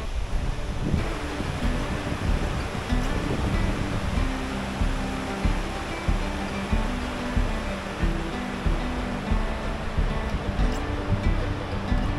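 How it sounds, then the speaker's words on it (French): A steady, loud rush of an Alpine river flowing out from under a snowfield fills the whole stretch, with wind buffeting mixed in and no voices. "Il y a la rivière qui passe sous le névet et qui sort en bas."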